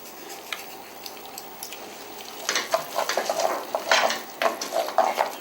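Food being stirred in a frying pan while seasoning with a pinch of salt, with scraping and sizzling that start faint and grow louder and busier in the second half, irregular utensil strokes over a steady fry.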